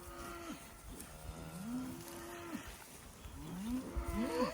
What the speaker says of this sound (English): Got the bulls hollering at them.